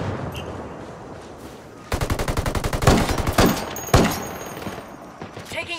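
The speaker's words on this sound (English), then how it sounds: "Taking heavy fire!" Close, loud automatic gunfire from a Ghost Recon player-versus-player match: rapid bursts with sharp single shots, under clipped radio-style voice chatter.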